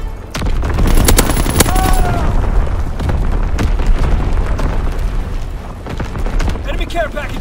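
Artillery and gunfire in the Call of Duty WW2 video game, a dense rumbling barrage of booms and shots that stays loud and continuous throughout, with a short radio-style callout briefly audible.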